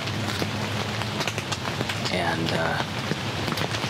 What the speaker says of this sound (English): anticipation of a lot of rain today, which it's here